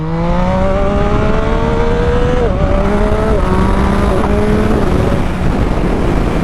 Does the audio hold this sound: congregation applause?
no